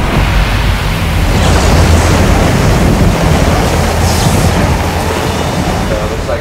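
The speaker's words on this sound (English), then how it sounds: "You can start to hear the roar outside." Hurricane Andrew's wind roars outside a house in a loud, constant broadband rush that stays steady throughout.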